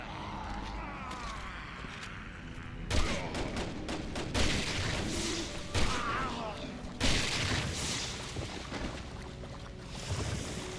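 Assault rifle fire in Resident Evil 6 comes in several loud, sharp bursts spaced a second or two apart over a noisy, rumbling game backdrop.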